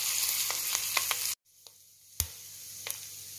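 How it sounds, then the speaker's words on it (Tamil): Garlic, chili and curry leaves sautéing in melted butter in a pan, a close hissing sizzle with light stirring clicks, briefly cut to near silence before resuming with a sharp knock. "மிளகாயும் கறிவேப்பிலையும் சேர்த்து வதக்கிக்கோங்க."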